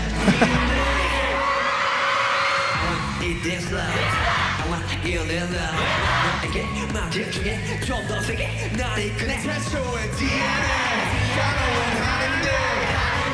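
A large arena audience at the AMAs cheers and whoops continuously through a performance, a loud dense roar of many voices mixed with the music's steady beat from start to finish.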